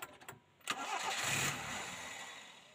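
A small engine that idles but stalls when throttled cranks and starts with a rising roar, then settles into a steady running hum.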